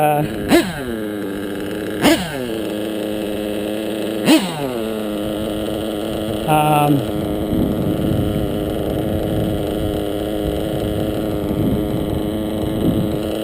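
An engine idles steadily throughout, a low rumble with several sharp revving blips near the start, then a settled, somewhat rough drone with wind-like noise.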